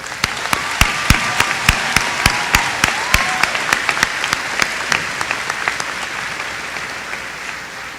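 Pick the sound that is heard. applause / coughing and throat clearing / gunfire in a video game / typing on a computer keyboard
applause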